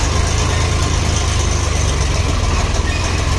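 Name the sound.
tractor with tipper trailer engine idling at sugar mill weighbridge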